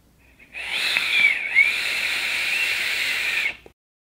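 A vape atomizer with a Haku coil build of fused NI90 Clapton wire, on a mechanical squonk mod, gives off a thin, steady airy whistle and hiss during one long puff of about three seconds, close and moderately loud.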